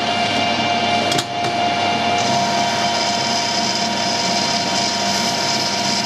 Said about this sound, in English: so I'll put a 1mm cut on first